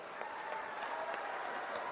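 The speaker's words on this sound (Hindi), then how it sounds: "बजी ना ताली?" Applause from a political rally crowd, a broad steady wash of many hands clapping that holds at an even level throughout, with no voices over it.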